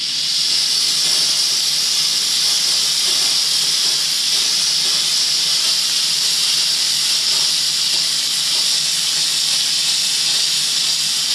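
A Bissell Steam Shot Deluxe steam cleaner blasts steam onto bathroom grout, a loud, constant, close hiss that holds steady without pause for the whole stretch.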